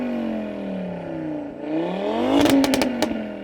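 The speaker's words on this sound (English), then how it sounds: "So Audi RS3, can you rev your engine a bit please mate, so we can just enjoy its tone." Audi RS3 with a 2.5-litre five-cylinder turbo engine and Audi sports exhaust, revved close by: a rising and falling throaty rev, then a sharper blip ending in a few crackling exhaust pops.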